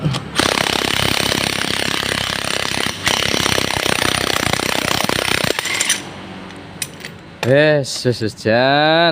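An impact wrench hammers away at a bolt on a Honda motorcycle in a rapid, loud, rattling burst lasting several seconds, followed by clinks of metal parts and brief squealing sweeps.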